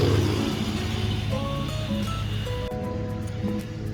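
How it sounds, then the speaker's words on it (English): A lawn mower works the grass at Maddox Park as a steady, fairly loud engine drone with a low hum running through, heard in the open air. "That noise you hear in the background, they are mowing the lawns here at the park"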